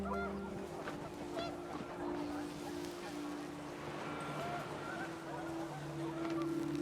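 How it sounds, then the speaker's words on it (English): Panicked geese honk in the video game What Remains of Edith Finch, scattered calls heard faintly over wind and a steady low drone. "panicked geese appeared and quickly went"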